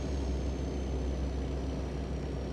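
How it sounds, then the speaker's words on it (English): A heavy truck engine in American Truck Simulator labours on a climb, a steady deep drone with a faint high whine, loud and continuous with no voices. "Hear the engine kicking in."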